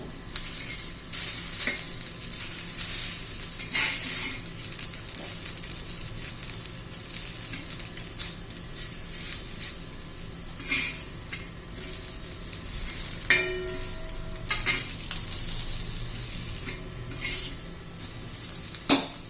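Spiced bitter gourd slices fry in oil in a pan and are turned over, a continuous close sizzle broken by repeated scrapes and clinks of a spatula against the pan, with no voices.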